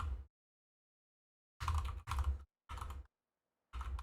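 Keyboard keys clatter in short bursts of typing during a typing video game, crisp and close, separated by brief silent pauses.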